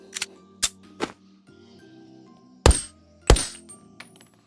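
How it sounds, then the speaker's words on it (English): Custom Glock 17 pistol fired in the VR game Boneworks: a handful of sharp, snappy shots, spaced unevenly, with faint mechanical clicks and a quiet hum between them. "Let's listen to some gunshots."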